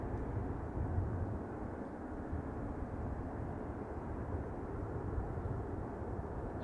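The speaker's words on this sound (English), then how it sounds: "777 is usually one of them." Boeing 777 engines at Manchester Airport give a steady, fairly faint, broad roar with a low rumble that holds unchanged throughout, with no talking.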